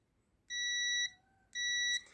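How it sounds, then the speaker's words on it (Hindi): A continuity tester gives two short electronic beeps while a button's connection is checked. The tones are steady, clear and close, separated by a brief gap. "नीचे को लगाइए, बीप आ गया।"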